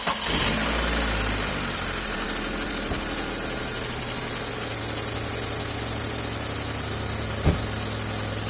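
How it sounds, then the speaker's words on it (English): A car engine with an intermittent starter fault turns over and settles into a steady, low idle that drones on close by, with a brief knock near the end. "Let's see if the car starts up."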